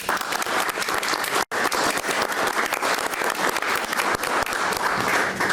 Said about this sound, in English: I would appreciate a round of applause for him